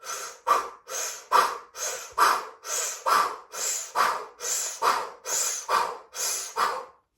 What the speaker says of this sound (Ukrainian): Мощний вдих, мощний видих, мощний вдих, мощний видих